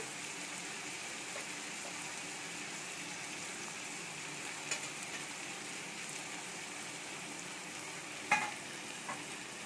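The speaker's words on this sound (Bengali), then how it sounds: "এটাকে ভালো করে ফ্রাই করে নেব বন্ধুরা।" Small fish coated with turmeric, Kashmiri chilli powder and fish masala frying in a pan for a Bengali chorchori, a steady close sizzle with a few faint clicks and stirring sounds.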